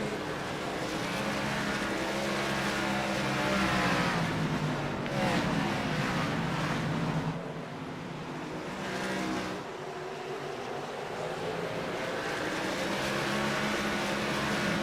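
Race cars in a sim racing game circle North Wilkesboro Speedway, a steady loud engine roar that swells and dips as the cars pass, continuous for the whole stretch.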